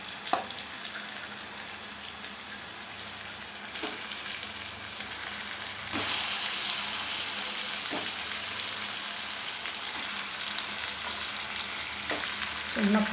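Stuffed cucumbers fry in oil in a small pressure cooker, giving a steady close sizzle that grows louder midway, with occasional soft clinks of stirring and no talk.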